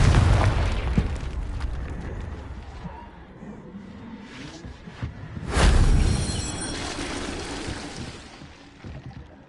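A Confringo blasting spell bursts in Hogwarts Legacy, a loud booming explosion at the opening with a second swelling blast partway through, fading into a rumbling tail.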